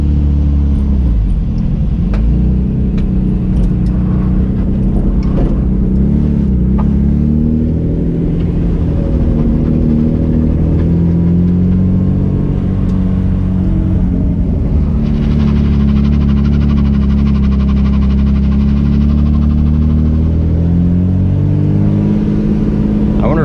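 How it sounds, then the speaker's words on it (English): Loud, continuous rumbling exhaust from an SC300 drift car with a raspy, leaky burble, the engine swelling and easing as it revs, no voices. "Don't mind the terrible exhaust noise."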